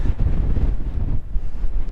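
Strong wind buffets the microphone at a hilltop campsite in wild weather, a loud, continuous low rumble with gusting surges and no voices.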